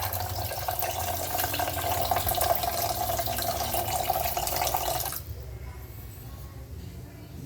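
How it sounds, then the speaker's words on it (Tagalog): Water flows in a steady stream from a newly installed water purifier, a continuous trickling rush that stops abruptly near the end, leaving a quieter background. "Meron tayong water purifier."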